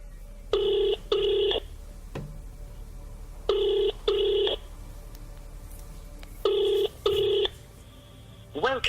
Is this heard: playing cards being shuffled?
no